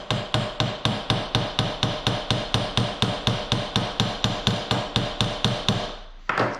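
Steady run of about two dozen evenly spaced hammer blows driving a rivet down on metal, loud and close, each strike sharp and ringing with a quick decay, ending in a short pause and a final scrape.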